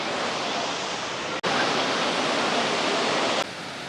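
A Kodagu waterfall in Karnataka's Western Ghats gives off a dense, continuous rushing roar, steady and close, broken only by a momentary cut partway through.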